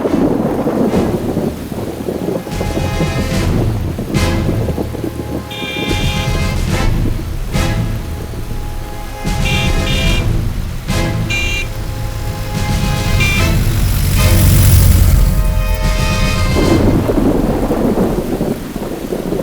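Thunderstorm with steady heavy rain and repeated rolling thunder rumbles, loud and continuous throughout, with wind buffeting the microphone.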